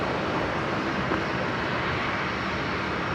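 An airliner, the New Guinea 76, begins its takeoff roll at Brisbane International Airport, giving a steady, broadband engine roar that stays at an even level throughout, with no talk.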